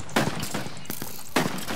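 Gunfire in the Minecraft Pay Day mod: several sharp bursts of shots ring out in quick succession, with a louder volley near the start and another toward the end, close and punchy with no talking.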